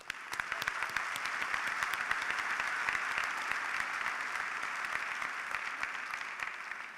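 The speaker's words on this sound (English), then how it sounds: "give us a chance to applaud them" A large university commencement audience applauds the faculty at an undergraduate ceremony in Maine, a dense, even patter of many hands clapping continuously at a moderate distance.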